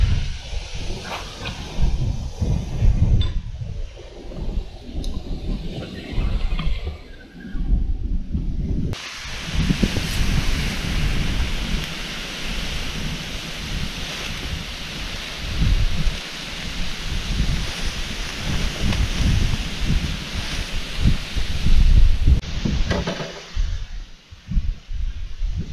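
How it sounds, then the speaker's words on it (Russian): Wind blowing outdoors by the water during October feeder fishing, a loud, continuous rushing roar buffeting the microphone, growing stronger and harsher through the middle stretch before easing slightly. "Ох, ветер, ветер."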